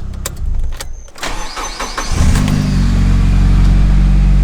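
Boosted Mitsubishi Lancer engine cranking and firing up, then settling into a loud, steady, close idle with a deep rumble after some clatter at the start.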